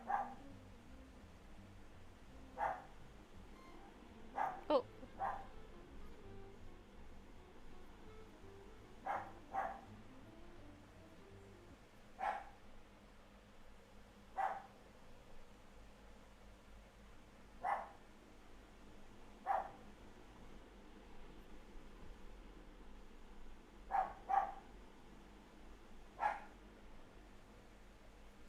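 A dog barks in the background indoors, roughly a dozen short sharp barks spaced a few seconds apart throughout, faint and distant over a low hum, with one brief spoken exclamation.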